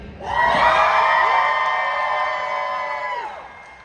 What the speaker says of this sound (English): please yell as loud as you can